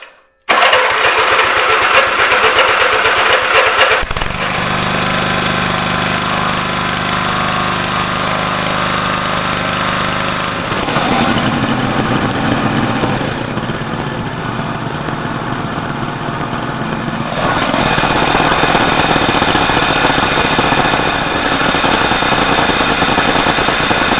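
A Toro Pony tiller engine pulled to life on full choke, the small engine catching and running loud and rough with a rapid hammering beat, rising and dropping in speed as it settles.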